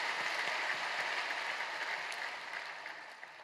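A church congregation at a Friday evening service at Yoido Full Gospel Church applauds the choir, a steady, distant wash of many hands clapping that stays faint throughout and tapers slightly at the end.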